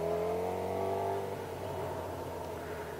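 A car behind a motorcycle rider on the road passes him, its engine droning and rising then easing off, steady and fairly close, with no voices.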